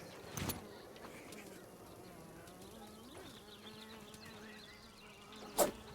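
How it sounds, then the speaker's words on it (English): Gnats in the video game Grounded buzz softly in a steady insect drone, faint and continuous, with a couple of brief louder thumps. "These are gnats."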